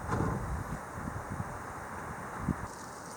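Wind blowing outdoors on a 55-degree day, a steady broadband rush with soft gusty swells and buffeting thumps against the microphone, no talking.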